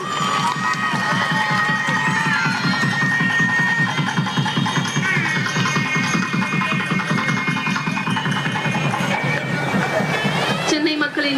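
A large crowd cheers and claps loudly and steadily at the opening of a new L-shaped bridge in Chennai, Tamil Nadu, with shouts and whistles rising over a dense roar that fades near the end.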